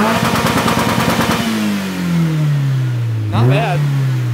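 A car engine blats with a rapid, choppy idle, then revs and settles into a smooth falling whine before a short second rev, loud and close.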